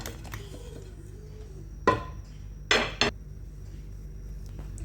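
Paneer cubes dropped into a pan of curry with a few sharp clinks of metal on cookware, three brief knocks over a quiet kitchen hum.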